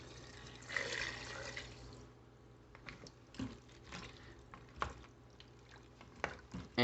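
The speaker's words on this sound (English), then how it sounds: "To this, we're gonna add a liter of water." A liter of water pours into a pot for birria, a quiet splashing stream with drips and gurgles, close and faint with no talking.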